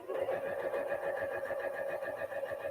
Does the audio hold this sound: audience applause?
no